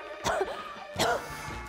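A person gives two short, separate coughs close by, with a brief pause between them and no other sound around them.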